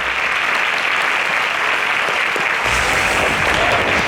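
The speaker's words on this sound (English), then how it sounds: "kindly give a welcoming round of applause to Emmanuel Otieno." A crowd gives loud, continuous applause at a Kenyan awards grand finale as a winner comes forward to collect an award, dense and unbroken with no talk over it.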